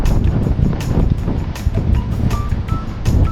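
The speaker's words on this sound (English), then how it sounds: "We have 14 knots of wind with quite much noise, so we motored until Mytikas faded slowly behind us." Strong wind roars across the microphone aboard a sailboat off the Greek coast under 14 knots of breeze, with steady broadband buffeting and water noise filling the whole stretch, close and loud throughout.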